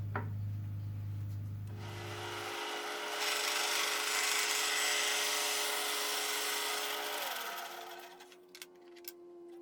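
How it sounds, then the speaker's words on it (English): A bandsaw cuts through a thin slice of decorative wood, its steady motor drone and rasping blade noise holding loud and close for several seconds before winding down and stopping near the end. "So as you just saw, I sliced these up on the bandsaw."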